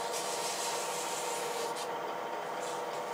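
Sandpaper rubbing a turned wooden tool handle spinning on a lathe, giving a steady close hiss and rasp with a faint motor hum underneath, alone for a few seconds.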